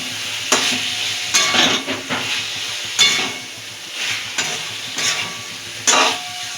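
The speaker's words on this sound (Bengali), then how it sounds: "এবার পটলটা দিয়ে আর একটু নাড়াচাড়া দেবো।" Pointed gourd fries in masala in a pan, a continuous close sizzle punctuated by repeated spatula scrapes and stirring knocks roughly every second.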